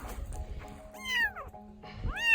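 Abandoned kitten found in brush, giving a few thin, high rising meows, close and fairly soft, with light rustling in between.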